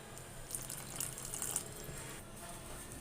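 Water trickles steadily into a laddu flour mix, a soft continuous running pour with faint splashy flickers, close and quiet, with no voices.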